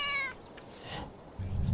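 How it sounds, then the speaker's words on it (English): A cat meows in the Roblox video game, a single short, tonal meow right at the start, fairly close and clear, followed by soft background game noise and a low rumble. "Oh my God, there's a cat."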